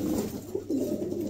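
Fancy pigeons, a pair of females, coo in soft, low, rolling phrases, close by and clear, with two short bursts separated by a brief pause.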